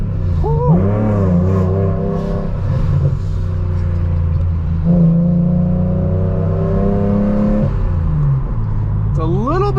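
A 2006 BMW Z4M sports car with a manual gearbox revs steadily while driving, its engine note rising and falling between shifts, loud and continuous from inside the cabin.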